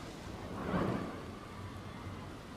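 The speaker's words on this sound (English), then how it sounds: "It is freaking raining again. Light rain." Light rain in the Planet Coaster 2 game, heard as a steady hiss of falling rain with a soft rumble that swells briefly, ambient and continuous.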